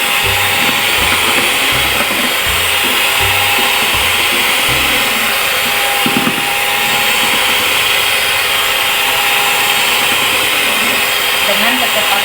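An electric mixer beats eggs at high speed, a loud, steady whirring hiss that never lets up, with someone speaking over it at times.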